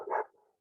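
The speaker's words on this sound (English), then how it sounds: "All the dogs in the neighborhood are going nuts right now." A neighborhood dog gives a short, single bark-like burst that quickly fades, fairly faint and heard alone.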